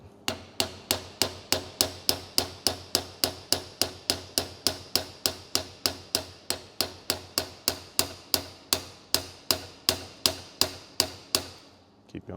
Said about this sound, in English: we're going to impact that into the bone